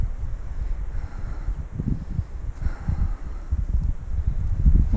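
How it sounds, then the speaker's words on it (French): Steady outdoor wind buffets the microphone beside a standing stone menhir in the Var countryside, a continuous low rumble with gusts that swell and fade throughout. "il y a un petit peu de vent aujourd'hui"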